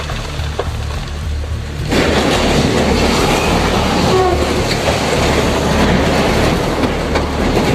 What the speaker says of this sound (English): disaster struck and the train was derailed